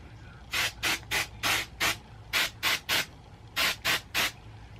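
L'Oréal Colorista 1-Day hair color spray sprayed onto type 4 blonde curly hair, heard as about a dozen short, close hissing bursts in quick groups with brief pauses between them, and no voices.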